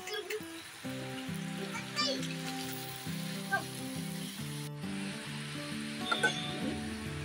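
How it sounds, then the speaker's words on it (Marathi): Puris fry in hot oil as part of a homemade aamras-puri meal, giving a steady, close sizzle that bubbles and crackles throughout under background music. "आता ह्या मी तेलामध्ये तळून घेणार आहे."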